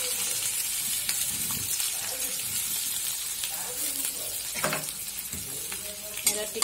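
Garlic, green chili and ginger frying in hot oil, a steady close sizzle and crackle with occasional louder spits, continuing under a voice.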